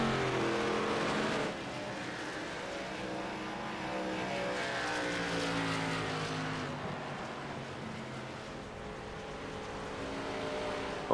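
ARCA stock cars lap a racetrack in a steady, continuous engine roar that swells and recedes slightly as the field circles, heard from a distance with no talk over it.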